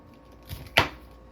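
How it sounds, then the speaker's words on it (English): A knife chops the leaves off baby bok choy on a cutting board, a soft tap and then one sharp, close chop. "So I'm going to chop the leaves off because the leaves is going to cook very quickly."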